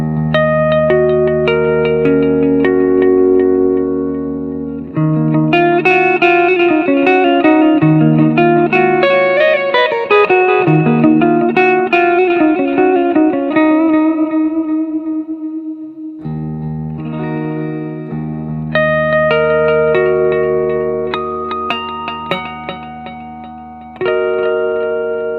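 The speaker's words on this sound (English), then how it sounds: "the first beautiful tone is lush with verb and delay" A clean electric guitar through a Spark Pearl amp plays sustained chords and melodic lines, washed in lush reverb and echoing delay, loud and uninterrupted.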